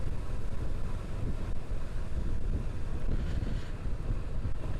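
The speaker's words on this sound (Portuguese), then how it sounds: "Tá um vento forte." Strong wind buffets a microphone outdoors on a sunny day out riding a motorcycle, a constant low roaring rush with gusty fluctuations and no other clear sounds.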